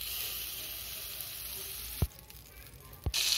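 Butter sizzling in a hot pan with fried banana and potato pieces for a puffed-rice chaat, a steady sizzle broken by two sharp knocks of a utensil on the pan.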